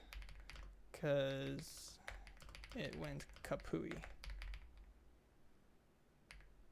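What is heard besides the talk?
typing on a computer keyboard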